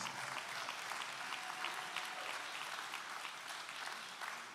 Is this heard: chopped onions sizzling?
no